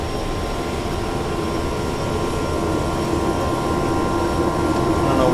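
A small plane's engine drones steadily and loudly from inside the cabin during a scenic tour flight over the Whitsundays and Great Barrier Reef, with no break in the hum.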